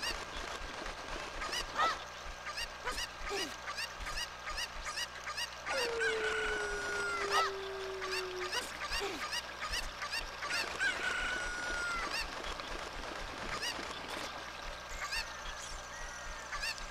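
Cuccos, the chickens of the video game Ocarina of Time, cluck and squawk over a steady game soundtrack, with a longer drawn-out call partway through and several shorter calls spaced across the clip.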